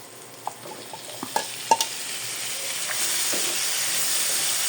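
Carrots and sweet potato for menudo are stirred in a hot pan, a few scraping spoon knocks early on giving way to a steady, fairly loud sizzle and hiss, with no voices.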